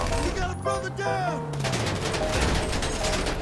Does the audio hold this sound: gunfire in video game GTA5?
yes